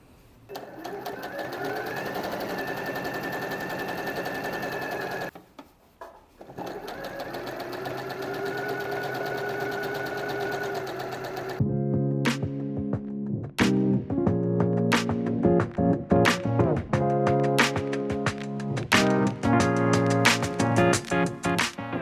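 A sewing machine stitches a dress hem, its motor running in steady bursts before settling into a fast, even run of close, rhythmic needle strokes that sound near and clear.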